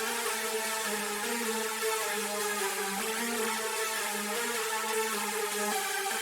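A stack of detuned synthesizers layered with gritty distortion, trimmed highs and a touch of reverb, holding a dense, sustained wall of tone with a slowly shifting low melodic line, steady and loud throughout with no voices.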